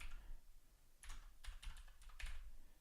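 Someone types a terminal command on a computer keyboard. A quick, faint run of key clicks comes in small clusters, with no talk.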